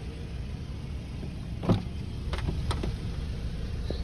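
The moonroof of a 2005 Toyota RAV4 L runs on its electric motor, giving a soft whir with a few short clicks and bumps over a faint background hum.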